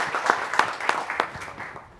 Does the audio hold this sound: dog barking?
no